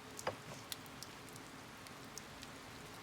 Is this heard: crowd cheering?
no